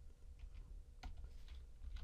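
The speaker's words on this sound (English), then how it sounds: "I'm going to just type a size just to keep everything consistent." A computer keyboard is typed on in a few soft, scattered clicks over a faint room hum, quiet and close.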